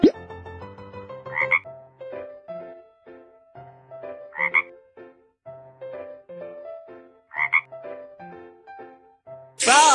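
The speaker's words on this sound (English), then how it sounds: "Frog!" Cartoon frog croaks from a children's animal-sound guessing game, three separate bursts of croaking over a bouncy musical backing, with a bright chime at the end.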